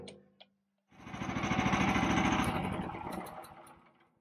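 A garden wood chipper's small engine starts up with a rising roar, then runs loud and rough at close range with a fast mechanical chatter before easing slightly.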